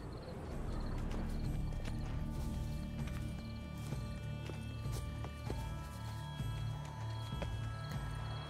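Steady horse hooves clip-clopping at a walking rhythm in The Witcher 3, with a brief horse whinny, over a dense background of music and ambient game sound.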